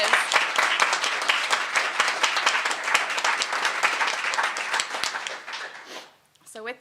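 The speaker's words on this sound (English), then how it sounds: "Let's do a final round of applause." Sustained applause from an audience at a press conference for a new performing arts center, dense clapping at full strength for about six seconds before tapering off into quiet.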